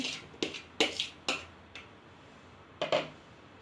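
Several light clattering thuds in quick bursts, like small chunks dropping into a pan, with a pause before two more near the end.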